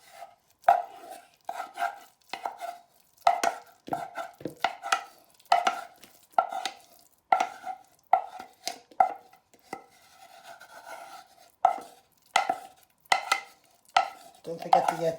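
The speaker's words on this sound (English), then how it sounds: "place your mash in your mixing bowl using a wooden spoon to get it all out" Sweet potato mash being scraped out into a mixing bowl with a wooden spoon for fishcakes, a close series of sharp, irregular knocks and scrapes against the bowl, a couple of dozen strokes with brief pauses between them.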